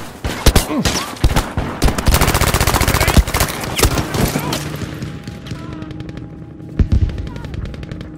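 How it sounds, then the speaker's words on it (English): Heavy gunfire fills a Battlefield V breakthrough battle on Iwo Jima: rapid machine-gun bursts and single shots crack loud and close over dense battle noise, then ease off into scattered distant shots with a faint voice underneath. "Keep firing!"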